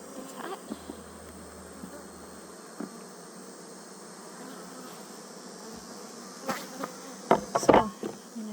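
Honeybees drone in a steady close hum around an opened backyard hive on a hot day, with a few sharp knocks and clatters of hive equipment near the end.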